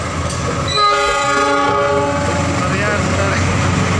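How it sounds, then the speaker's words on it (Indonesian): A locomotive's train horn sounds loudly over steady rail and engine rumble, a sustained chord-like blast lasting about a second and a half, on a train hauling rails. "Lonceng dari masinis"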